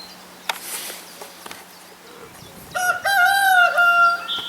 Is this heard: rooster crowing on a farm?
yes